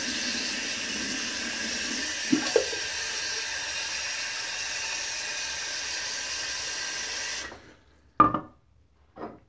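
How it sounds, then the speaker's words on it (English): Water runs steadily from a tap into a bowl for several seconds, then shuts off, followed by a couple of soft clunks. "Let me fill up my bowl real quick."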